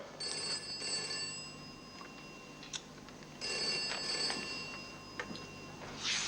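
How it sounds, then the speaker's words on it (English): A private telephone rings in a quiet room, its bell sounding in clear repeated bursts with short pauses between them and no talking. "that'll be my private phone."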